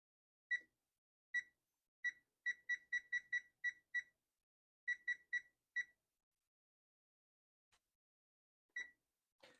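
A kitchen timer marking the one-hour point while baking a chocolate chip coffee cake sounds a series of sharp electronic beeps in irregular clusters, clear and close in a quiet room, then falls silent before a few last beeps.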